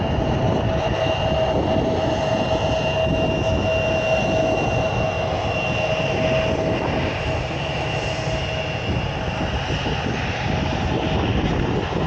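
A Lufthansa A319 taxis out at Manchester Airport, its engines making a continuous, loud, even whine and rumble with a steady tone running throughout, and no speech.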